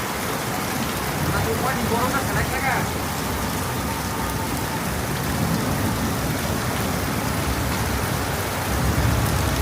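Steady rain pours down outdoors in a dense, even hiss that keeps going without a break, with faint voices mixed into the downpour.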